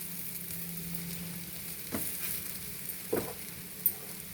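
Stuffed bitter gourd fries in a little oil in a pan, giving a soft, steady sizzle close by with a few faint stirring scrapes and light taps.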